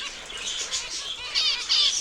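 Zebra finches flutter and scatter inside an indoor aviary, a busy rush of soft wingbeats mixed with small high chirps that swells louder toward the end.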